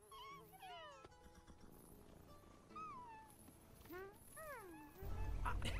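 An animated cat meows several times in rising and falling whines, spaced across the scene, before a louder burst of noise enters near the end.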